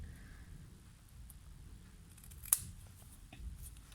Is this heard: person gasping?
no